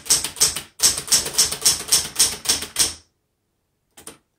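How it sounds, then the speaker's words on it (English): Typing on a 1970s Smith Corona Galaxie Twelve typewriter, a close, brisk run of a dozen sharp key strikes in steady rhythm, then a pause and one last short double clack. "Okay, let's go ahead and keep typing."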